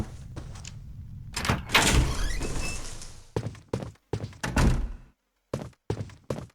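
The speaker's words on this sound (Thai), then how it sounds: "แหมเสียงเปิดประตูนี่คุ้นๆเลยฮะอย่างของ Resident Evil เลย" Door opening in the horror video game Clock Tower 3, a series of dull thunks and creaking bursts that start and stop in short separate bursts, clear and close with no talk.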